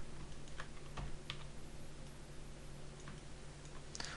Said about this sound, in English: I just hit G on the keyboard